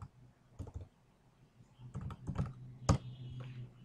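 Someone types on a computer keyboard, with scattered quiet key clicks in short irregular bursts and one louder tap standing out, close and soft with no talking.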